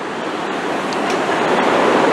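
Roaring teal-green river water rushing through Takayama, Japan at sunset, a loud, steady broadband rush that swells slightly and continues without a break.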